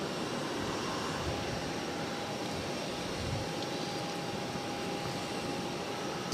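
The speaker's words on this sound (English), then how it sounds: "Oh, here comes the noisy plane. The Pilatus PC's coming." A Pilatus PC turboprop arriving at Boston airport gives a steady, broad engine roar with a faint whine. The roar holds fairly level the whole time, heard from a distance with no voices.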